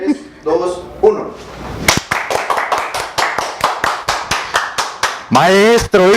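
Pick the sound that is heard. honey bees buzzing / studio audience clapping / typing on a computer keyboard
studio audience clapping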